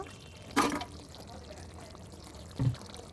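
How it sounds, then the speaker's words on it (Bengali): Raw mustard oil is poured into a simmering koi fish curry in two brief, soft pouring splashes a couple of seconds apart, faint against a quiet kitchen background. "এখানে এক ছোটো চামচ পরিমাণ কাঁচা সর্ষের তেল দিয়ে দিব"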